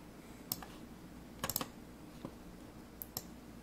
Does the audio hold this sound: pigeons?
no